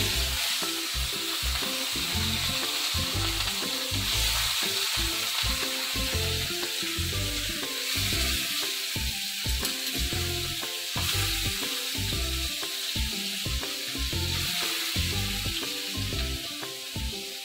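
Pieces of jitada fish frying in a pan over lowered gas: a dense, loud, continuous sizzle and crackle that holds steady for the whole stretch.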